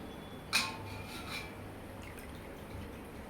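Faint drips and small splashes of water falling through a strainer into a pot, one sharper drop first, then a few softer ones in a quiet kitchen.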